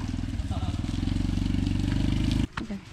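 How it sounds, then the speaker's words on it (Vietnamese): A motorbike rides along a muddy, slippery rural track, its engine loud and close with a steady, throbbing drone before cutting off abruptly near the end. "Xe máy thì cứ đi theo một vết xe cũ thôi."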